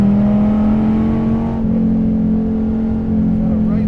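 A DSC Sport tuned Dodge Viper TA droning steadily on a race track, its engine note holding a loud, even hum that dips briefly as it settles under braking, with light voice over it.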